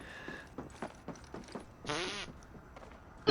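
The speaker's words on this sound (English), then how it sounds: "Is that a fart?" A single brief fart-like noise lasting about half a second, loud and close, set amid the sounds of a Marvel's Spider-Man gameplay stream.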